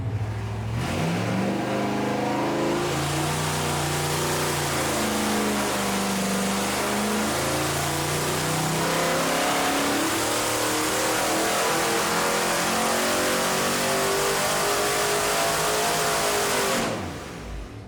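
Car engine fitted with stock exhaust manifolds revving hard through a dyno pull, a loud climbing roar that holds for about fifteen seconds before cutting off abruptly.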